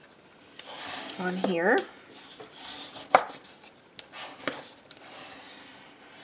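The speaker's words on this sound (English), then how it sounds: "I'm just going to give this a good burnish" Close scraping and rubbing as a folded paper card is burnished flat, in short bursts and strokes, with a few sharper scuffs and a quiet voice speaking briefly.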